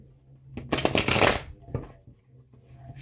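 A quick riffle of tarot cards being shuffled, a short rustling burst followed by a few softer flicks, close and fairly quiet.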